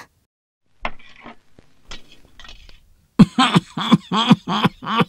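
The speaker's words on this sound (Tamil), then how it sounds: "ஐயோ, எப்பவும் இருமல் வருமா?" A few quiet throat noises, then a rapid run of harsh, close coughs, about six in quick succession.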